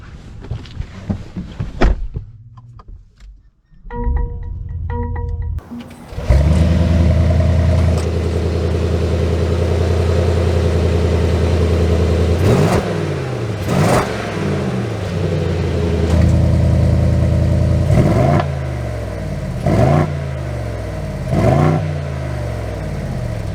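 A 2022 Mercedes-AMG GLE 63 S, rated at 600 horsepower, starts up after a door sound and a few clicks, then settles into a loud, steady idle. Several sharp revs rise and fall over the idle.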